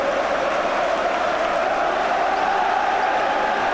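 A large football crowd celebrates on the pitch after a 1985 Manchester City versus Charlton Athletic match, a dense, continuous roar of distant voices and cheering that stays even and steady throughout.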